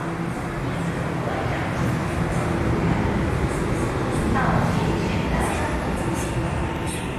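A Shanghai Metro Line 1 train runs with a steady, dense rumble and rattle that stays even throughout, heard from inside the train, with faint voices in the background.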